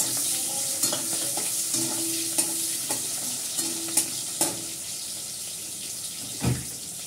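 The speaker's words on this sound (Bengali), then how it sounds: "পেঁয়াজটা প্রথমে একটু ভাজা ভাজা করে নিই, কষিয়ে নিই ভালো করে।" Quiet sizzling of onions frying in a pan with repeated clinks and scrapes of a spoon stirring, plus a single louder knock near the end.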